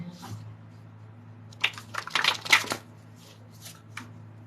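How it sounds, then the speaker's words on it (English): Tarot cards being shuffled by hand, soft riffling and flicking bursts clustered in the middle, close and fairly quiet against a low hum, with no talk over them. "Let me shuffle again."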